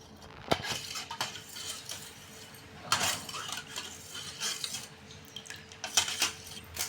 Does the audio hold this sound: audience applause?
no